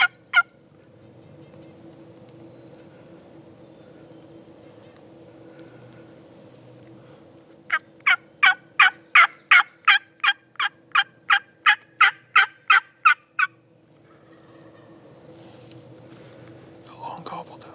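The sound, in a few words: wild turkey gobbling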